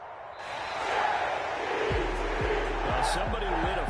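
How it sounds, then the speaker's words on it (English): A home crowd cheers and applauds in a PS4 basketball game, a broad steady roar over which a ball bounces several times and a commentator talks. "And the home crowd applauding."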